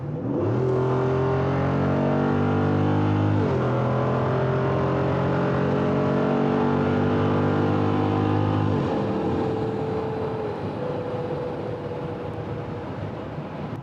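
Jeep Wrangler JLU 392 with its V8 accelerating hard through the gears: a loud, close engine roar rising in pitch, with two clear upshifts dropping the note before it climbs again, then settling to a steady cruise drone.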